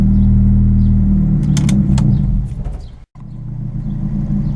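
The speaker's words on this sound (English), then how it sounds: "I'm letting it run again, and my idle is actually going down" A Mitsubishi Eclipse engine idles after a restart with a new ECU, a steady close low rumble that dips briefly near the end and then carries on unevenly.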